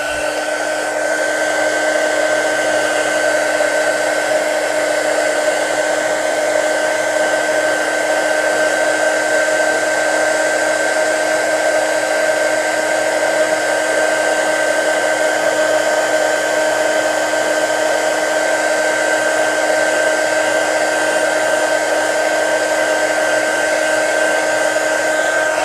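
A heat tool warming embossing powder blows a loud, continuous, steady whir with a fixed tonal whine, running unbroken from start to finish.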